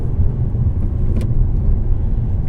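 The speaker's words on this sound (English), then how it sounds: "you can hear the engine working, but it's a pleasant sound" A 2016 Jaguar XF 35t R-Sport engine hums and rumbles steadily from inside the car as it accelerates on a tight road, with a low continuous drone and faint road noise.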